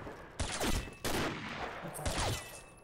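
Sharp gunshots in a sniper training video game ring out in three distinct loud cracks spaced about a second apart, each with a short echoing tail, ending on a sudden close thump.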